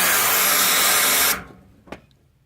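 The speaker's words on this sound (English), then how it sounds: "I'm definitely getting air blowing into the tank." Compressed air hisses loudly and steadily through a fuel line into the fuel tank of a 1965 Pontiac LeMans, then cuts off abruptly, followed by a single short knock.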